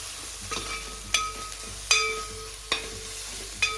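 Ground ginger and garlic paste sautéing with onion in a pan for a snakehead fish curry: a soft, low sizzle broken by four or five sharp, evenly spaced spatula scrapes, close and fairly quiet, with no talking.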